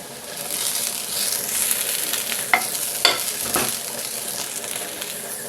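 Drumstick (moringa) pieces sizzle steadily in a pan with ginger and garlic, a loud continuous frying hiss broken by a few sharp stirring scrapes.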